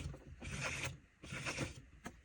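A household sewing machine worked slowly by turning the handwheel by hand for a straight stitch, giving two soft mechanical whirring, rubbing bursts with a brief click at the end, close and quiet.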